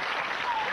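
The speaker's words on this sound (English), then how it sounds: "applause." Studio audience at a televised charity catchphrase game show, breaking into a short, steady burst of applause, fairly faint and alone.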